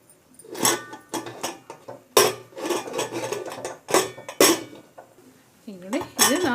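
A metal pressure cooker lid being handled and closed in a village kitchen while goat head and leg sambar cooks, with repeated loud metallic clanks and clinks in bursts, and a voice talking between them.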